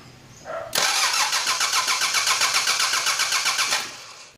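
Car engine cranking over on the starter during a compression test on cylinder one, after an engine rebuild: a rapid, even chug of compression pulses for about three seconds, loud and close, then winding down.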